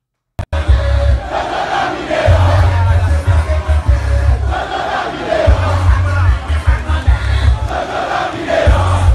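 A large crowd at a peace march roars and chants loudly and continuously, with surging cheers and yells swelling in waves throughout.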